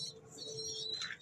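A pet pigeon coos softly and briefly nearby, a faint low murmur with a few light chirps over quiet background.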